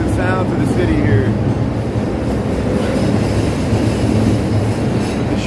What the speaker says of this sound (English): There's the Brown line heading around the bend here.